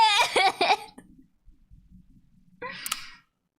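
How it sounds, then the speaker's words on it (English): A single sharp sneeze follows a voiced intake and a brief quiet pause, close and fairly loud. "He sneezes."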